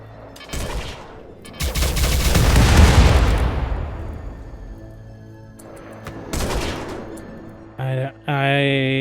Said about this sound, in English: it was some kind of fire foam popper